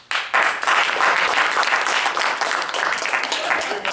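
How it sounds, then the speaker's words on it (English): A crowd breaks into loud, sustained applause, steady clapping filling the room for several seconds. "Another round of applause."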